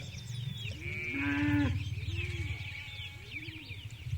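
Cows driven home across a meadow by a farmer bleat and low repeatedly, several calls overlapping near and mid-distance over a steady low rumble.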